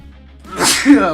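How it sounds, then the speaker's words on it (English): A single sharp human sneeze, close and fairly loud, rising from a short breathy intake into a burst, alone without talk. "I need to sneeze, oh no."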